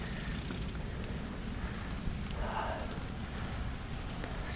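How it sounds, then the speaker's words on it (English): Steady rain noise while cycling on a commuter bike fitted with fenders and a mirror on a street or trail, a dense, even wash that stays moderately loud throughout with no speech. "It is fun to ride in the rain."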